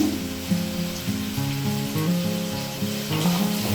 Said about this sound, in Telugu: ఇప్పుడు వీటిని కొంచెం దోరగా వేయించుకోవాలి.